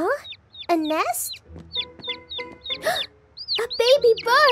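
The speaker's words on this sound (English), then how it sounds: "A baby bird!" A baby bird chirps in a cartoon, with rapid high, sweeping peeps in repeated bursts between louder animated voices and exclamations.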